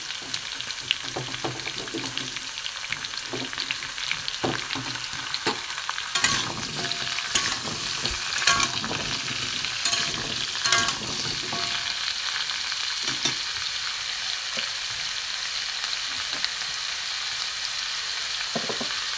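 Cut pumpkin frying in a pan while being stirred, a dense continuous sizzle broken by frequent scrapes and clicks of the spatula, close and steady without talk.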